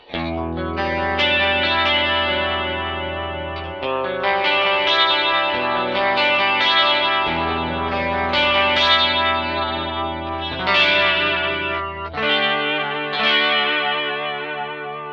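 Shimmering electric guitar chords and notes through an analog stereo chorus, played alone on a PRS DGT in single coil mode, swelling and ringing out with a wide, wavering tone.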